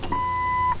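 A single steady electronic beep from a boat's keypad ignition as the code is entered, a clean mid-high tone lasting about half a second, close and fairly loud over faint background hum.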